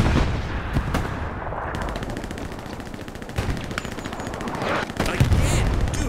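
Rapid machine-gun fire in the World War II shooter Hell Let Loose rattles continuously in dense bursts, loud and close, with a few heavier shots and battle noise layered underneath.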